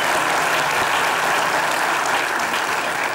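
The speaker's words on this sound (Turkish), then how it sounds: "Taha'ya bir alkış alalım." A studio audience on a Turkish TV show gives a loud, dense round of applause for Trabzonspor goalkeeper Muhammed Taha, close and continuous from start to finish.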